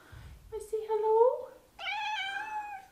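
A pet cat meows indoors at home, giving two drawn-out, close and fairly loud meows one after the other, with a short gap between them.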